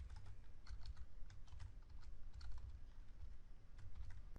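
Rapid, steady computer keyboard typing while SQL code is entered, clicks running continuously and close, with no talking.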